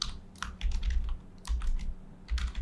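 Computer keyboard keys typed in quick, uneven bursts with short pauses between, close and fairly clear, with no voices.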